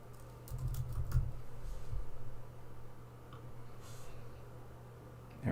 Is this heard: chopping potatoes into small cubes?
no